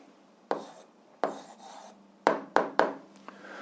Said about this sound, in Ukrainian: Ну, а зараз записуємо відповідь, пишемо відповідь.